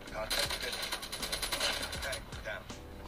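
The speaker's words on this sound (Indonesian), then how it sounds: "Wah, untung dari belakang ada yang nembak tuh." Rapid automatic gunfire in a mobile first-person shooter game, dense and continuous over a steady bed of game sound for about three seconds.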